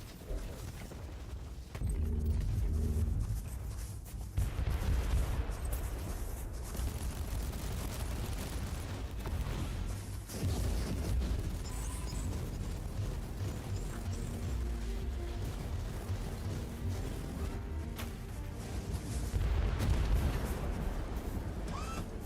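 A static mortar firing in the video game Warhammer 40,000: Inquisitor Martyr, repeated heavy booms and thuds at irregular intervals amid a dense battle din of blasts and mechanical clatter.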